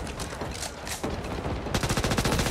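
SMG gunfire in Back 4 Blood, scattered shots at first, then a rapid, evenly spaced automatic burst at the end, moderately loud with no talking.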